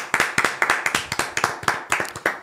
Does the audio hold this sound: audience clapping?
yes